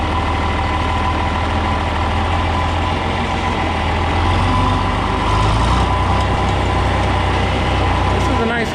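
A John Deere 4010 tractor engine runs steadily in seventh gear at a faster travel speed, a loud continuous low diesel drone with a slight swell midway, close to the listener.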